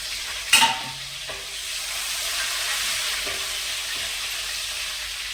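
Curry leaves fry in hot oil with a steady, close sizzle and hiss, opened by a brief loud crackle and clatter as they hit the pan.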